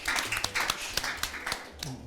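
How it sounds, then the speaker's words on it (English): Scattered, faint applause from a small audience at a Baltic Sea security conference, with a few sharp separate claps over a soft murmur, short and thin. "a round of applause to you"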